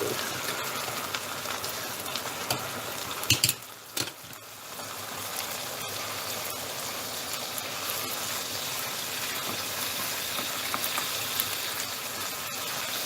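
A cream sauce with a splash of chardonnay simmers steadily with a dense, even crackle and bubbling, broken midway by a couple of short knocks and scrapes from stirring.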